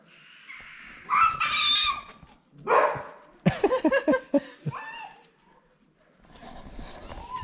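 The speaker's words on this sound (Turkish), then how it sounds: "Havlamayı bilmeyen Rex'i havlattı" A dog named as never having barked before gives a few loud, close barks in a Beykoz tomato garden, the bursts short and uneven in rhythm, with quieter background noise between them.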